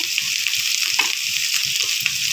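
Carrots and beans frying in oil give a steady, bright sizzle with faint stirring taps and scrapes underneath.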